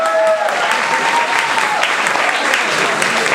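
Loud audience applause at a party gathering in Bolesławiec, many hands clapping in an even, dense burst that holds steady from start to finish, close and with no talk over it.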